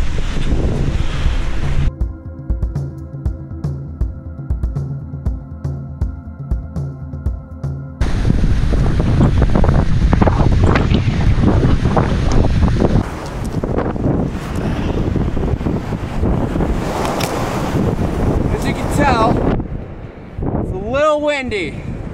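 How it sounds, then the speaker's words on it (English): Strong wind buffets the microphone on a hiking trail at Angel's Rest, a steady roaring rush throughout, loud and close, briefly broken by a voice near the end. "Windy."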